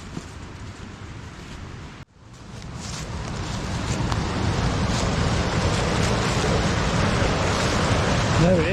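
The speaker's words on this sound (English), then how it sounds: "And there's the waterfall." Fast-flowing, ice-cold waterfall and stream roaring as a steady broadband rush, briefly cut off near the start and then swelling back louder and continuous, close and loud throughout.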